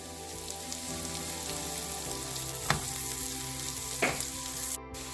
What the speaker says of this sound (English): Next, add the garlic and saute it. Now we are going to add the white onions.